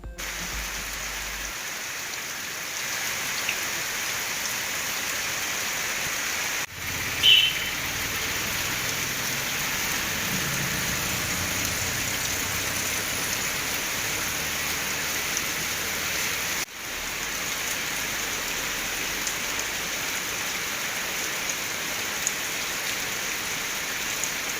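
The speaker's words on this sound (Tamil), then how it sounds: "தமிழ்நாட்டில் பல்வேறு மாவட்டங்களில் திடீரென பெய்த கோடை மழை." Sudden summer rain pours down steadily in a district of Tamil Nadu, a dense, even hiss of drops on surfaces that runs throughout, with a couple of brief knocks and no voices.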